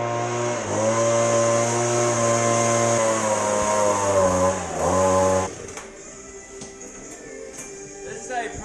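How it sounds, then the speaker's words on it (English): A drill press motor whirs loudly with a steady harmonic drone that dips in pitch a few times, then abruptly cuts out, leaving quieter clatter and faint background noise. "This is how you properly get the metal shavings off of a drill press."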